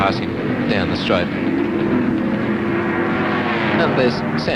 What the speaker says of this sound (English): Make quite an impressive motor racing sort of noise